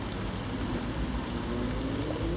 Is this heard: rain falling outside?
yes